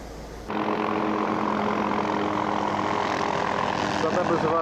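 A helicopter flies over New Zealand mountains, its engine and rotor droning loudly and steadily from start to finish, cutting in abruptly after a brief quieter moment.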